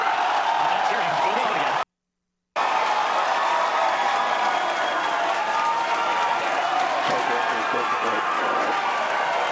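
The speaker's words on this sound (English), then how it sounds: "Why are people cheering?" A large crowd cheers and applauds ahead of a Starship rocket launch at Starbase, Texas, a dense, steady roar of clapping and shouts that runs almost the whole time, broken by one short gap of silence.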